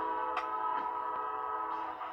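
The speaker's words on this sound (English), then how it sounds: "You hear trains in the distance outside the Center of Hope." Trains sound in the distance outside a homeless shelter, a faint, steady tonal horn-like drone with a few soft bumps over quiet surroundings.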